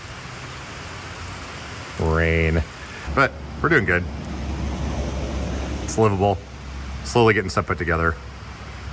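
Steady rain falls outside a bus as a constant soft hiss, with a person talking over it in short bursts.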